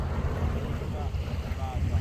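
A private boat out on the sea off Hurghada, Egypt, its low engine rumble and wind buffeting holding steady throughout at close range, with faint water splashing.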